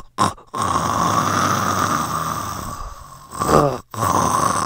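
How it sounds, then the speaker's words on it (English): A classmate asleep in a classroom snores loudly and close by, drawn-out rasping breaths with a sharp snort and short gaps between them. "he is now snoring mid-sleep in the middle of class"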